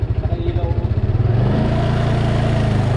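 A Yamaha Mio Sporty motorcycle engine idles with a fast, steady pulsing beat, then the throttle opens and the note rises into a smoother, louder rev that stays up close to the microphone.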